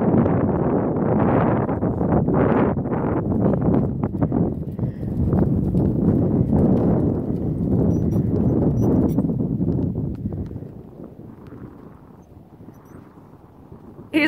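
A horse clip-clops along at a steady walk under a rider during a flatwork session, hoofbeats close and continuous through light wind noise, then growing softer and quieter near the end.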